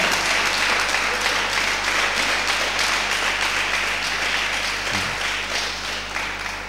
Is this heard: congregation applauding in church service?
yes